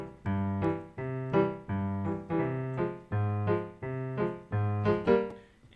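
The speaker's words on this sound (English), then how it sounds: "if you take one of the themes from Undertale, Temmie Village, it sounds like this." Temmie Village theme from Undertale played as a looping MIDI sequence, a bouncy repeating phrase of bright synthetic tones in steady, evenly spaced note groups, clear and alone.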